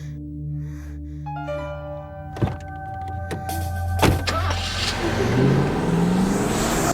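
Car driving in the NiGHTS Journey of Dreams video game: a steady engine hum with sharp mechanical clicks and a rising revving whine that swells louder toward the end, no talking.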